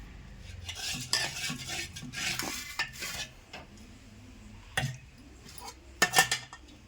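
Dal goes into a pan and is stirred with a metal utensil, giving soft scraping and clinking, with a few sharper knocks against the pan near the end. The sounds are quiet and close, and no voices are heard.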